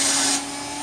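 A Phlatprinter CNC machine retracts its Z axis away from foam. A brief, loud whirring motor with a rushing hiss cuts off partway through, then settles into a quieter steady hum.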